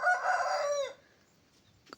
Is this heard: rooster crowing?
yes